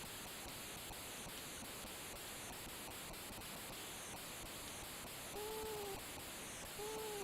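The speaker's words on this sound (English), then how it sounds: "The sound of the eagle, I think, is particularly impressive." A Commodore 64 video game's synthesized eagle cry, two short warbling calls near the end over a steady loud hiss of game noise.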